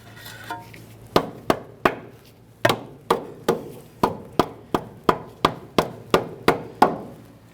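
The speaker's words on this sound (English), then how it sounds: "Just go ahead and line it up and then bonk it in with a rubber mallet." A rubber mallet knocks an upper control arm into place on a 2003-2011 Mercury Grand Marquis: about fourteen sharp, close thuds come in a steady, fairly even rhythm, each with a short ring.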